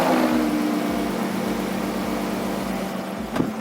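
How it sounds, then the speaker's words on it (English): Car engine idling smoothly after a rockers and lifters replacement, a close, even low hum with a steady rhythmic pulse and no ticking, alone. "here is the engine running smooth, beautiful, nice like it should"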